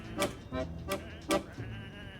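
Sheep in the video game Whateverland, bleating in several short, evenly spaced calls, fairly faint with a soft background and no talk.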